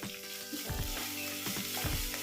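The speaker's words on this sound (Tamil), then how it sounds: "பெருங்காய கட்டி நீங்கள் போடுற மாதிரி தான் எண்ணெயிலே போட்டுக்குங்க. நல்லா பொரிஞ்சு வரட்டும்." A lump of asafoetida frying in hot oil with onion, dried red chili and curry leaves, a dense close crackling sizzle with some low scraping and bubbling underneath.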